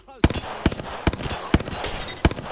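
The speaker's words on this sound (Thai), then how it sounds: "อีเสียงปืนอ่ะ" Gunfire in the video game Apex Legends: sharp, loud shots crack out in quick irregular bursts across a couple of seconds, with a player's voice in the background.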